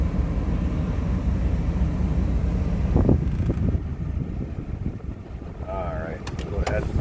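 A 1983 Mercedes-Benz 380SL convertible idles after starting, a steady low engine rumble under a voice, ending with a few short clicks and chimes.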